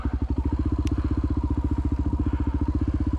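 An enduro motorcycle engine running close by with a fast, even thumping pulse, loud and steady throughout, with a brief faint click partway through and no speech.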